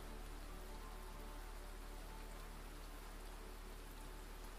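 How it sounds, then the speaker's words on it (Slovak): Soft, steady rainfall pattering on a surface, faint and continuous with no voices. "Zostaň len s týmto dažďom, jeho rytmom,"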